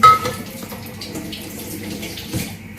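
Water poured into a drinking glass in a kitchen in Ireland, a short steady splashing stream heard close up, with no talking over it.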